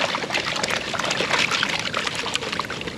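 Water pours and splashes steadily from a gold pan being tilted and panned out, a close, continuous wash of trickling and sloshing with no talk.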